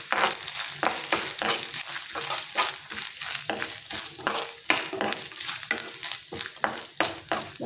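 Grated coconut sautéing in a pan for a spicy Tamil egg gravy: a steady close sizzle broken by repeated rhythmic scraping stir strokes throughout, with no talking.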